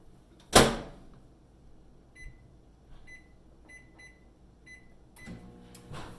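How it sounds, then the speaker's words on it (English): A microwave oven cooking pesto chicken in a lidded rectangular steamer: a sharp close clunk of the door or start, then a faint steady hum with a few soft electronic beeps and a rattle near the end. "This is gonna cook in the microwave in just a few minutes."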